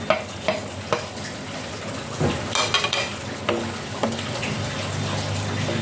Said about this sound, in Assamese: এতিয়া মোৰ এইখিনি উতলি গৈছে, গতিকে এই ভাজি থোৱা পিঁয়াজকেইটা দি দিম।